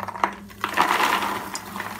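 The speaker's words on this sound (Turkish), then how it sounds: "Mısırları dök." Freshly popped caramel popcorn corn is poured out of a cooking pot, a rattling, clattering cascade of kernels with scattered ticks and a brief rushing swell, close by, with no speech.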